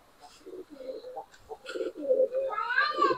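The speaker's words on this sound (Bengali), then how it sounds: "এই যে আছে অল্প কিছু কবুতর আছে, অনেকগুলা।" Pigeons cooing inside a backyard pigeon house, several soft, close, throaty coos and murmurs overlapping in irregular bursts, with no talk.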